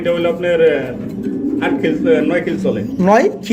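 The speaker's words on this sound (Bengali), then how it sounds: "এটা হচ্ছে নর কবুতর" Pigeons at a breeding loft coo in repeated soft, rolling phrases close by, with a voice talking over them.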